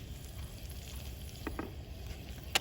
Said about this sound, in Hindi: घी हमारा गरम हो गया है। अब हम इसमें प्याज डाल देंगे।